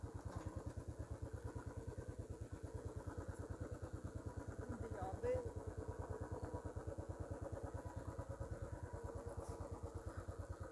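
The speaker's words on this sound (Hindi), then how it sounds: "तो बाइक हम यहाँ पे सेफली पार्क कर देते हैं" A motorcycle engine idles close by with a steady, even low putter throughout, a single brief knock partway through.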